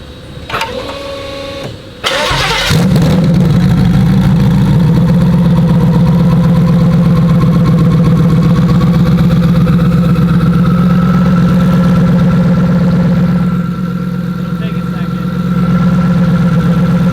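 A truck engine in a shop starts with a brief crank, then settles into a loud, steady idle with a deep even drone that runs on unchanged for many seconds.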